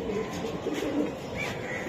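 Pigeons coo softly amid a crowded pigeon market stock of Budapest racers and high flyers, with low murmuring calls repeating over a busy, steady background.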